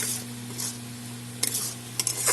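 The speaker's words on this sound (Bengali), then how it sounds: "পেঁয়াজ একটা মিডিয়াম সাইজের আর 2টা টমেটো, এগুলো সব আমি এখন একসাথে কষিয়ে নেব।" A medium onion and two tomatoes are sautéed together in a pan for a Bengali dish, with a steady close sizzle and occasional scraping stirs of the spoon.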